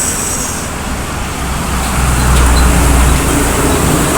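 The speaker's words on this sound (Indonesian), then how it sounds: "Dari kejauhan terpantau bus Sumatera Barat melintas kembali ya dari arah Sumbar." Loud roadside traffic as an intercity bus from West Sumatra passes by, a broad rumbling roar that swells toward the middle and stays heavy, with no voices.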